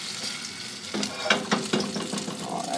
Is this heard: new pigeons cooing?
no